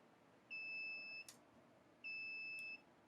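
The timer on a BBQ oven used for powder coating beeps twice, two flat electronic tones each under a second long with a pause between, fairly faint and with no talk.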